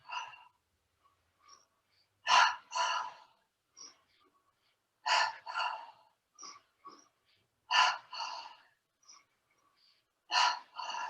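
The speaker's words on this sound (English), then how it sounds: "Inhale through the nose, exhale through the mouth." Slow, paced breaths during a qigong yoga session, each a sharp nasal inhale followed by a longer airy exhale through the mouth, repeated about four times close to the listener with quiet gaps between.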